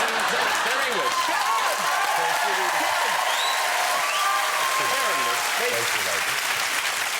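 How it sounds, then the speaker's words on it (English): A television talk-show studio audience claps steadily and evenly for about seven seconds, with faint whoops and voices mixed into the applause. "Why did I just clap at our own movie?"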